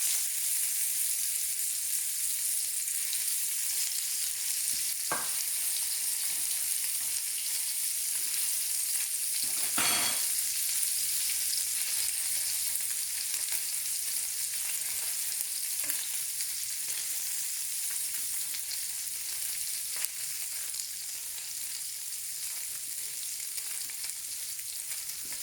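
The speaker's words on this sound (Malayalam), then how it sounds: "അപ്പം നന്നായിട്ട് ചൂടായിട്ടുണ്ട്, ചെറുതായിട്ട് സ്മോക്ക് ചെയ്ത് തുടങ്ങിയിട്ടുണ്ട്. അപ്പോൾ നമുക്ക് അതിലേക്ക്" Salmon searing in a very hot, lightly smoking pan gives a continuous loud sizzle and crackle that holds steady throughout, with a couple of faint clinks and shifting sounds underneath.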